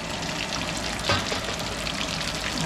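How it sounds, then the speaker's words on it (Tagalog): Food frying in hot oil, a steady close crackling sizzle with brief louder spatters partway through, no voices. "Check natin yung prito."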